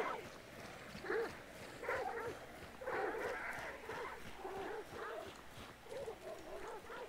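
A dog barks and yips in repeated short bursts in a hunting video game, fairly close and moderately loud, with quieter talk around it.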